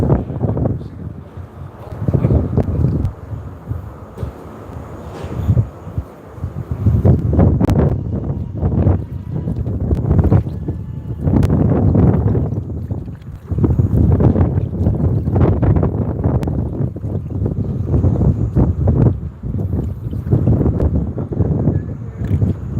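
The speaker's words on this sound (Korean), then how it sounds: "비는 안 오는데 바람이 너무 쳐" Strong wind gusts at a goat farm, roaring and buffeting the microphone in repeated surges and lulls, loud and close throughout with no voices.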